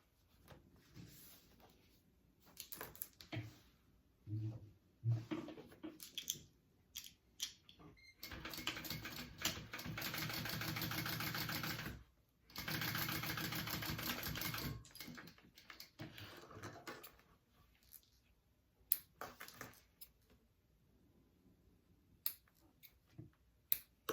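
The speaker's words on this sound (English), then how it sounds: "I'm going to sew my top closed." A home sewing machine stitches a bag top closed during small bag construction, running in a few steady bursts of close, even mechanical whirring separated by brief pauses and small handling clicks.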